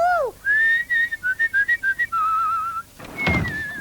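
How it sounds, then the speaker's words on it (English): A person whistles a short tune of bright, separate notes, with one long swooping note at the start and a quick falling whistle near the end, close and clear with no talking. "I wish I could whistle."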